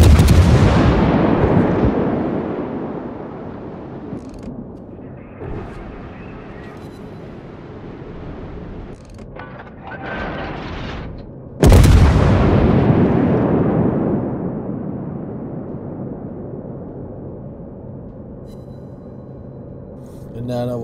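Warship naval guns firing in World of Warships: a deep booming salvo at the start with a long rumbling decay, a second heavy blast midway followed by a slow fading roar, loud and close over background battle noise.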